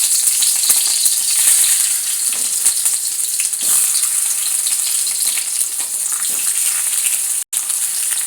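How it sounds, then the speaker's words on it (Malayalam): Tomatoes fry in hot oil in a pan, a loud, continuous close-up sizzle with crackling bursts throughout, briefly cutting out near the end, with no talking. "തക്കാളി ഒന്ന് വറുത്തെടുക്കണ്ടേ."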